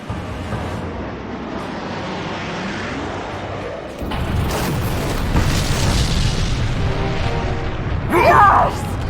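Explosive blast from weapons fire striking the generator bank of an Illuminati mothership, a booming rumble that swells after the first few seconds and peaks near the end, loud and close.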